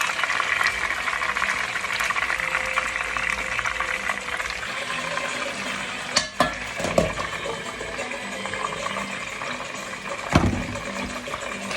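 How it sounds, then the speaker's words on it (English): Pieces of chicken, Senegalese style, bubble and sizzle in oil in a pot with a steady roar, broken by a few sharp clatters and bumps as they are moved about. "then we start frying"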